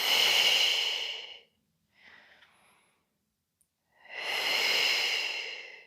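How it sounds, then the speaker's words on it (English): Two long, breathy exhales during a floor exercise frame a short, quieter breath in between, close and soft with no talk. "Inhale, exhale"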